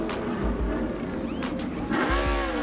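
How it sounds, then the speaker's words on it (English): A NASCAR race car at Martinsville slams into the wall during a race, heard as loud, continuous engine roar with tire squeal and skidding, with brief higher whines as other cars pass. "So yeah, Jim McMurray just slams the wall"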